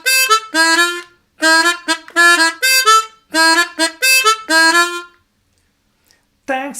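A piece played with register changes as a bright, reedy melody of short accented notes and brief sustained tones in choppy phrases, close and loud, then a pause before one final note.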